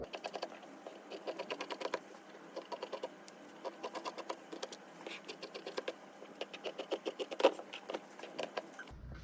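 Scissors snip steadily through a paper blouse sleeve pattern up close, a fast run of crisp, rhythmic cuts with brief pauses, no voices.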